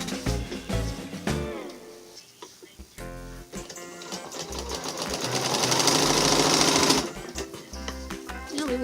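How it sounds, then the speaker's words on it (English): A sewing machine stitching two fabric sides of a lined floral basket together, running in steady close bursts that speed up into a long continuous whir, with brief talk. "Now we're going to sew these two sides together"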